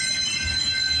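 Canadian Pacific freight train passing on the Galt Subdivision near Guelph Line at night, a steady rolling rumble with faint wheel squeal, heard alone for about a second.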